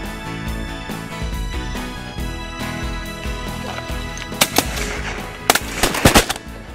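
A steady outdoor background during a duck hunt, with several sharp shotgun blasts cracking near the end, a couple in quick succession, loud and close.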